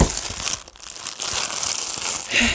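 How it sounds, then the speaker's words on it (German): A plastic bag holding diamond painting stones crinkles and rustles as it is pulled open, loud and close, in irregular bursts over a couple of seconds. "Erstmal muss ich diese Tüte aufkriegen."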